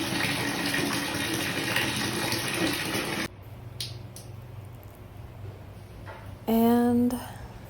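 Hot water gushes from a tap into a bucket, a loud steady rush that suddenly drops to a quieter trickle, then a brief burst of splashing flow near the end.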